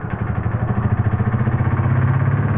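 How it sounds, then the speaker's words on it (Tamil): A motorbike engine pulls away nearby and stays loud and steady under a throbbing, rhythmic low rumble, with no voices over it. "டேய் ஐயோ வண்டி போயிடுச்சே"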